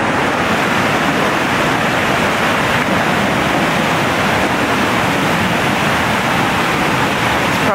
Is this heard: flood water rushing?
yes